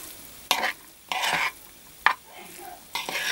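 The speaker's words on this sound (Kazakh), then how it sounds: "Міне мынау піскен бауыр мен піскен күрішті екеуін әдемілеп араластырады екенбіз" Cooked liver and boiled rice being stirred together in a pan, giving four separate bursts of scraping, sizzling stir noise with short quiet gaps between them, close and fairly loud.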